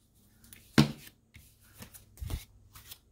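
Scissors trim artist trading cards made with magazine art, giving a few short, quiet snips and paper rustles, with one sharper cut standing out near the start.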